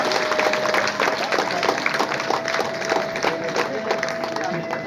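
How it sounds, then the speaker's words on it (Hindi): An audience claps for self-help groups being called up at an Indian Bank event in India, a steady crowd applause under a continuous background tone while an announcer's voice carries over it. "आप सभी तालियों से उत्साहवर्धन करते रहे इन सबका।"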